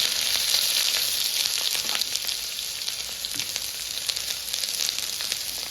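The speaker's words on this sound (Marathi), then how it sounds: "तेल चांगलं तापलं की आपण थोडीशी टाकणार आहोत ती म्हणजे हिरवी मिरची आणि त्यावर घालणार आहोत कांदा" Green chillies and onion fry in hot oil for dal bharta, an even, dense hiss and crackle that carries steadily without pause, close and moderately loud, with no talking.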